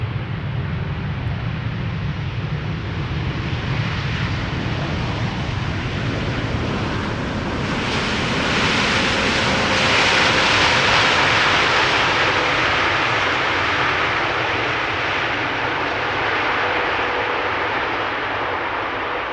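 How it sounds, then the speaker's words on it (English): A Suparna Boeing 747 cargo jet arriving from China lands at Amsterdam Schiphol, a loud sustained jet roar that builds midway, peaks with a hissing rush and slowly eases, with no talk. "Suparna 747 arriving from China, underway now."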